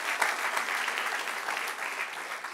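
Applause from a church congregation during a sermon, a soft, steady patter of many hands clapping at a moderate distance, continuous and even throughout.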